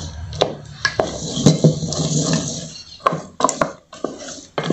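Spoon beating a thick rapadura pé de moleque mixture in a pot, continuous scraping and stirring with irregular clinks and knocks against the pan, close and steady.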